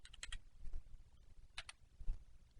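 Numbers are typed on a computer keyboard, a few quick soft clicks in two small bursts, close and quiet in an otherwise still room.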